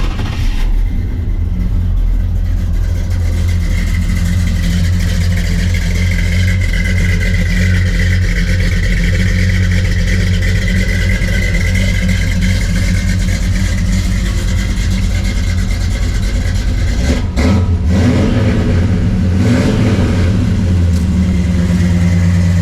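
The Blueprint engine in a 1968 Pontiac LeMans runs loud and close for a long stretch, holding a deep steady drone, then revs with a few sharper bursts toward the end, with no voices.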